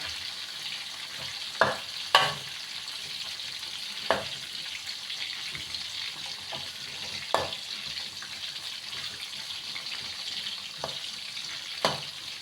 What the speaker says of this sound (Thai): กระดูกหมูอ่อนทอด